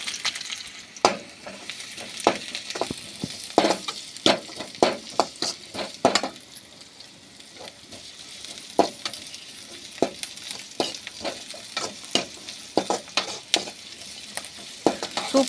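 Ginger, garlic and onion fry in a pan for a coriander-mint chutney, a constant sizzle broken by frequent sharp spoon scrapes and taps against the pan, close and without speech.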